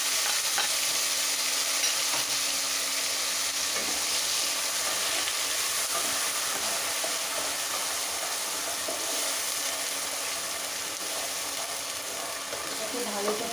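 Garlic, ginger, onion and chili paste frying in a pan for a duck egg curry, a steady dense sizzle running throughout with occasional soft scrapes of a spoon stirring the paste.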